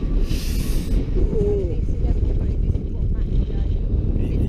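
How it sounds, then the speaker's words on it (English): Chilly wind buffets the microphone outdoors on a road trip through UK national parks with a T5 camper, a steady low rumble that fills the whole clip. "Chilly wind, chilly wind."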